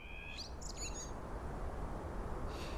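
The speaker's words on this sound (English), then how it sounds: "So now we've got the ambience with the birds." A bird ambience loop plays in Unreal Engine MetaSounds: a few short, clear chirps and calls over a steady soft wash of background noise, with no speech.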